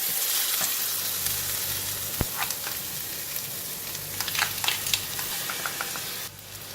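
Chili, onions and garlic frying in a pan, a close, steady sizzle with scattered crackles and a few sharp clanks of stirring, no talk.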